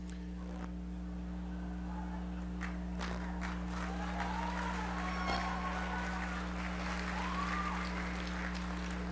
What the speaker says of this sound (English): All those people clapping are the ones that I got probation for.